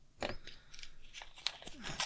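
Scissors make a quick cut opening a mailbag package, a few crisp close snips and crinkles in rapid succession, with no talking.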